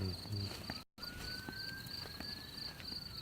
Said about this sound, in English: And I can just sit and listen to the crickets.